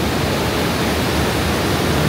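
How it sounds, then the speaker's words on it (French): The Ryuzu waterfall in Japan cascades in a dense, steady rushing roar, close and loud, with no voices over it. "Ça c'est les cascades de Ryuzu."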